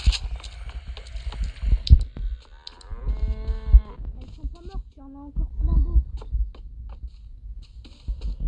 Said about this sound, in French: Par exemple, cette vache.